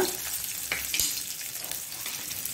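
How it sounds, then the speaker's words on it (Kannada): A masala for a Mangalore prawn coconut-milk gravy fries in a pan, a close, bright sizzle with a few stirring knocks and scrapes and no talking. "ಇದು ಮಸಾಲಾ ಪ್ರಿಪರೇಷನ್. ಸ್ವಲ್ಪ ಫ್ರೈ ಆಗುವಾಗ"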